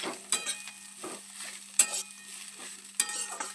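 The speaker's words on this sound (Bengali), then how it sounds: "খুন্তির সাহায্যে সবজিগুলো হালকা একটু ম্যাশ করে দিচ্ছি" A spatula mashes cauliflower samosa filling in a pan, making a series of soft scraping pushes and a few sharper knocks against the metal over a quiet, low sizzle, with no talking.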